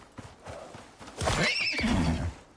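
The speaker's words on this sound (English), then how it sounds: "Sorry, baby horse. I am not equipped to take care of you yet." A baby horse in a video game whinnies loudly and shrilly for about a second, after some soft clopping hooves, with a synthetic, game-like quality.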